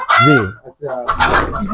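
A couple of loud, close calls from desi chickens on a poultry farm in quick succession, squawking and clucking with harsh tone.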